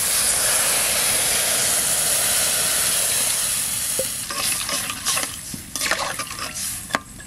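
Red paddy-field crabs frying in a pan as water is added, a loud, dense sizzle that fades after a few seconds into softer bubbling, broken by a few scraping clinks of a utensil on the pan.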